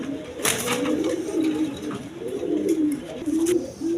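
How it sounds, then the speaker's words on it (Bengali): A pair of Rajgolla pigeons coo close by, repeated throaty rolling calls in a steady rhythm with a few brief sharper sounds over the top. "দর্শকবৃন্দ এখানে এক পেয়ার কবুতর আছে"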